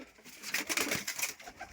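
Pigeons kept by a fancier in Rzhyshchiv give a brief, faint burst of soft cooing in the evening, a short low murmur of calls with no talk.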